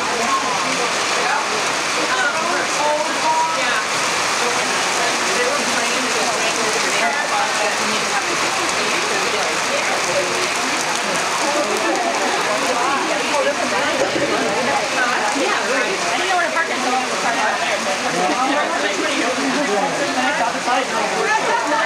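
Heavy rain pours down at an outdoor race, a loud, dense and unbroken hiss of drops striking surfaces close by, continuing without letup for the full length.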